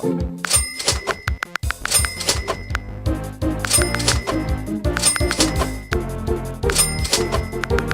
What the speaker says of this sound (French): On entend la caisse enregistreuse, ça fait une bien jolie mélodie.